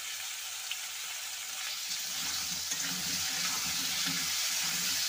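Cauliflower and potato pieces frying with salt in a pan, a soft, steady hiss of sizzling that runs evenly throughout at close range, fairly quiet, with a faint low rumble underneath and no voices.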